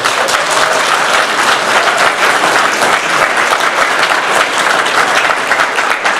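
An audience at a conversation event with Nevada Governor Joe Lombardo breaks into loud, dense, continuous applause that fills the room and holds steady throughout.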